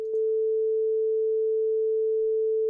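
Two in-phase sine waves summed into one steady tone that rises in level just after the start, then holds constant and clean at a mid pitch with nothing else audible.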